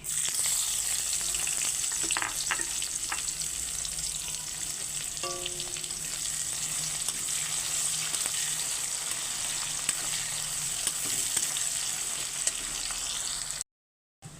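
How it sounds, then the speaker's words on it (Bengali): Chopped onion frying in hot oil tempered with nigella seeds and bay leaf, a loud, steady sizzle with occasional spatula scrapes and clinks, cutting off abruptly near the end. "এবারে দিয়ে দিচ্ছি পেঁয়াজ কুচি"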